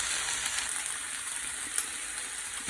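Vigorous stir-frying in an ordinary pan with no wok gives a loud, steady, close-up sizzle that holds without a break, with a few brighter crackles on top.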